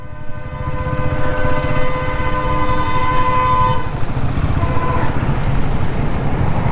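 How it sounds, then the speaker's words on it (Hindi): A train passes along a railway track beside a forest path in Punjab, loud and steady, with a horn tone held for about four seconds over the low rumble and clatter of the wagons. "और साथ में कहीं पे रेलवे ट्रैक से ट्रेन की आवाज़ आ रही है"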